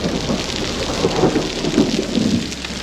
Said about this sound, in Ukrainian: Дощу недостатньо, а град.